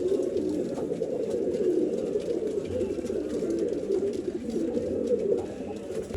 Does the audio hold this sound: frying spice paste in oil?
no